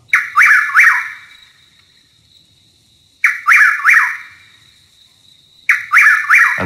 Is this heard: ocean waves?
no